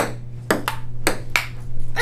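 A ping pong ball bounces on the table during a game among friends, with about five crisp, close clicks at irregular intervals over a low steady electrical hum.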